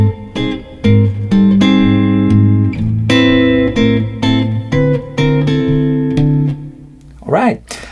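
Jazz guitar chord melody from a standard, plucked one after another in a slow melodic line, close and clear, ending with a short sliding bend.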